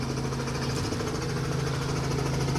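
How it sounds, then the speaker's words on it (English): A helicopter's engine revs up before takeoff at a tourist helipad, a steady loud droning hum with a low rhythmic pulse running unbroken throughout. "It's revving up the chopper."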